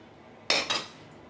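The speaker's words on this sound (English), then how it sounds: "Stir all that in. The jelly will make it set." A spoon stirs fridge tart mixture with jelly in a container, giving two quick scraping clinks of utensil against the bowl, close and brief, in an otherwise quiet room.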